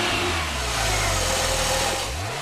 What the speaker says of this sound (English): The two exhaust pipes give a hint of the powerful engine hidden inside.